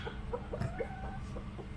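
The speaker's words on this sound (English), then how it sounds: "They're all nice chickens." Several chickens, including a small Cochin, turkens and a silkie, cluck in short, soft bursts close by in a backyard flock, with a steady low rumble underneath.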